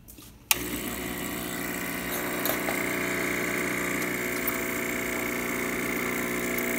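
Saeco Espresso Classico espresso machine switching on abruptly and brewing with a steady, loud pump hum and buzz, continuous for several seconds with faint clicks, no talking.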